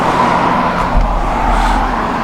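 Road traffic, including buses and tractor trailers, rolls past a 4x4 expedition vehicle camped at the roadside. A steady, loud roar of passing cars and trucks continues throughout, with a low thump near the middle.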